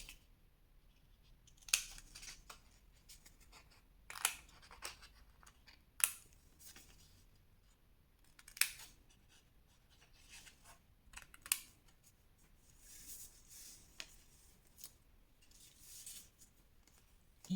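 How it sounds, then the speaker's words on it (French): Scissors snip a paper strip at a slight angle for a scrapbook Advent calendar, giving about eight sharp, close cuts spaced a couple of seconds apart against a very quiet background. "Vous pouvez couper ici légèrement en biais aux extrémités."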